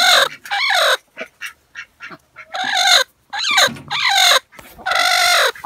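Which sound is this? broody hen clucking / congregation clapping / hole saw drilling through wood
broody hen clucking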